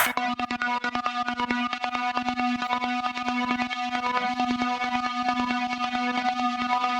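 A lone ambient synth drones steadily with a buzzy, textured tone and a faint pulsing flutter, sustained evenly from start to end.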